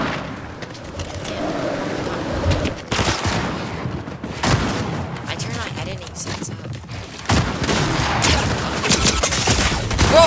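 Sniper rifle fire during a Fortnite match, loud sharp shots cutting through dense game noise and repeated blasts, with a player talking over the action throughout.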